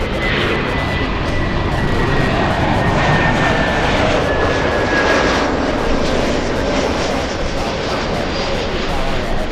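British Airways jet airliner passing at LAX: a steady, loud broadband engine roar that holds for the whole stretch, with a faint rising whine threaded through it and a voice talking underneath.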